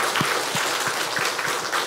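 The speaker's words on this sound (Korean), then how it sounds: "먼저 한번 박수 한번 해주시죠" Applause from a church congregation during a Korean Sunday service, steady clapping with regular thumping beats, moderately loud and continuous for a couple of seconds.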